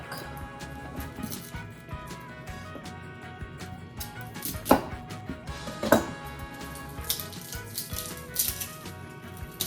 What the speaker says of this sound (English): Last thing to chop up is we're gonna mince 1 clove of garlic